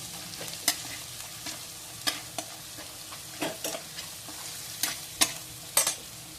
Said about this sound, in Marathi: आता आपलं छान परत परतून घेतो